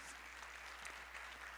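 Congregation in a church applauds, a faint and distant wash of clapping over a low steady hum.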